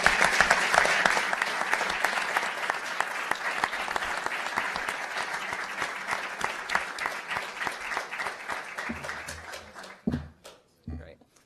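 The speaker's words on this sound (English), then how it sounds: "Big hand of applause to everybody." Crowd applause at an outdoor commemoration of the 45th anniversary of the Stonewall Inn riots, loud sustained clapping with cheers that thins out and fades to scattered claps near the end.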